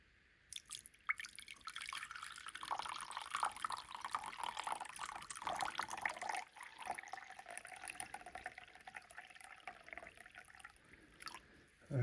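Water poured into a container holding salt and lemon juice for cleaning tarnished copper jewelry, a quiet trickling and splashing stream with faint drips, soft and close.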